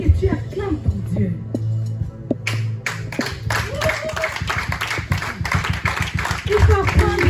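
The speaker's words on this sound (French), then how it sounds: "Je veux que tu acclames ton Dieu." Church congregation clapping to acclaim God, scattered rhythmic hand claps building under lively singing and shouting voices during a worship service.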